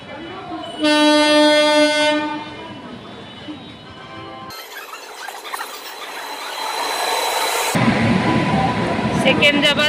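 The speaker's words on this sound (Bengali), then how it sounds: "সেকেন্দ্রাবাদ হজরত নিজামুদ্দিনের দুরন্ত এক্সপ্রেস ক্রস করছে এখন মথুরা জংশন দিয়ে।" Duronto Express train running non-stop through Mathura Junction, with a loud sustained horn blast, then rumbling and squealing wagon noise rising close by as the train passes.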